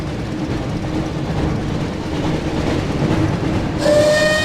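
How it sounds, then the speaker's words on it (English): The Hogwarts Express rumbles through a tunnel in Harry Potter and the Chamber of Secrets game, a steady dense roar of wheels and carriages filling the space, with a sharp tonal horn-like blast cutting in near the end. "Looks like we found the train, Ron."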